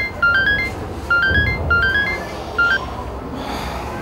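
A mobile phone ringtone plays in short repeating bursts of bright electronic tones, a few phrases with brief gaps between them, over a low room hum and no talk.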